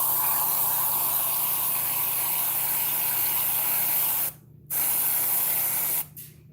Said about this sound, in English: So we're going to add a little bit of this extra creamy whipped topping.